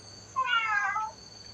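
A single cat, one of several kept at a Thai temple in Lampang, gives one short, clear meow close by against a quiet background.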